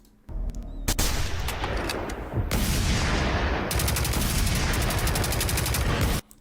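Loud, dense gunfire and a missile barrage from the Generation Zero video game, a sustained roar of rapid shots and blasts that runs almost unbroken for about six seconds before cutting off abruptly.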